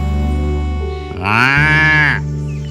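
A buffalo lows in an animated children's moral story: a single long, loud, drawn-out moo rising in pitch over a steady background music bed.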